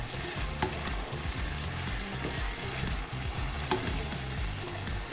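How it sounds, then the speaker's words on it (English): Chicken meat frying in a pan, a constant loud sizzle with occasional scrapes and clicks of stirring, close and steady, with no talking. "Make sure you cook your meat very well."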